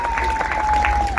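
A crowd at a wedding gathering applauds the performing artists in a short burst of clapping, heard under a thin, steady tone.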